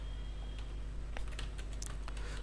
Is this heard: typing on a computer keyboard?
yes